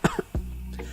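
An elderly man's coughing in a dramatized story: a few sharp, close coughs followed by a strained, rasping throat sound, loud and alone without talk.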